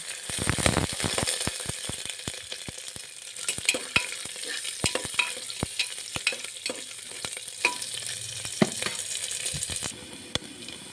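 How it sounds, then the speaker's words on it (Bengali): Grated coconut and nuts fry together in a pan, with a constant crackling sizzle broken by frequent sharp clicks and scrapes of a stirring spoon. "নারকেল বাদাম একসঙ্গে ভেজে নেব।"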